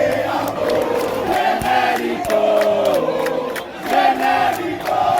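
Football supporters of Auto Esporte and Botafogo in Paraíba chanting and taunting from the stands, a loud sustained crowd chant with rising and falling sung phrases and scattered shouts.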